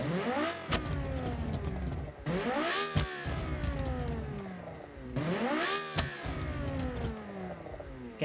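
Simulated V10 race car from the Automation game, 1992 DTM style, accelerating in repeated rising pulls with sharp shift breaks between them, a loud continuous engine howl heard alone.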